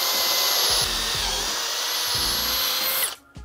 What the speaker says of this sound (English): and we're just going to drill right through there.